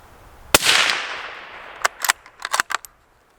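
Suppressed Ruger American Scout rifle fired at a 100-yard target: one sharp muffled shot with a decaying tail, followed by a quick cluster of several fainter cracks and clicks, fairly close and without talk.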